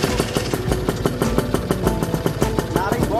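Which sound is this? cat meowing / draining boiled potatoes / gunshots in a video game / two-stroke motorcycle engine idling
two-stroke motorcycle engine idling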